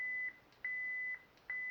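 A ProffieOS lightsaber's volume menu gives a repeating pattern of thin, high electronic beeps, alternating long tones with short gaps, faint and alone.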